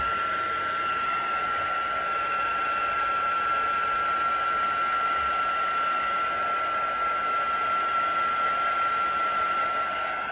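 Heat tool blowing hot air onto a stamped card for cardmaking, a steady close whirring hiss with a high whine held constant throughout without pause.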